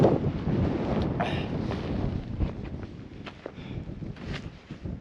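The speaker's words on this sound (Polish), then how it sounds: "A wiatr ostry wali" Strong, gusty wind buffets the microphone on a high mountain trail in Nepal near Namche Bazaar, above 4000 metres, a steady roar with rising gusts and faint footsteps underneath, no talking.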